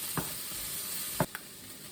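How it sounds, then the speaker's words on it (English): Chopped bell peppers and half a red onion fry in a pan at a campsite, a soft steady sizzle at low volume with a few faint clicks of stirring. "Now the peppers and the onion have been cooking for about 4 minutes"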